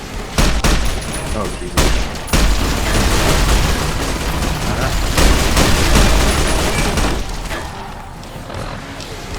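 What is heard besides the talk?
gunfire in Fallout New Vegas, video game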